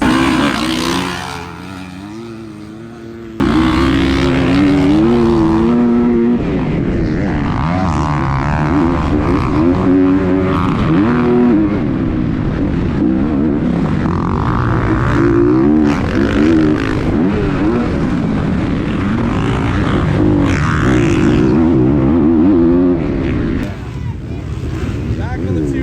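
A 250 dirt bike races on a beach Surfercross course, its engine revving and shifting loudly up and down under a voice talking, with wind buffeting the microphone.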